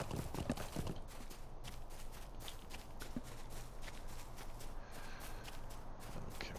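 Horse hooves clip-clop steadily in The Lord of the Rings Online while riding through the Shire, an even run of close footfalls with game ambience behind them, ending as the rider dismounts.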